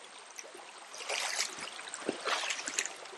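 Water flowing over rocks at a remote waterfall in East Indonesia, a steady close hiss and trickle that swells louder midway with splashy gurgles, no talk.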